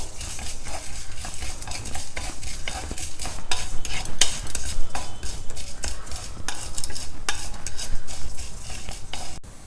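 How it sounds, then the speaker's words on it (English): Urad dal and chana dal roasting together in a pan, with a steady scraping stir of a spoon against the pan and faint sizzling, close and continuous with no talk. "and 2 teaspoons of urad dal. Now we will roast all these together."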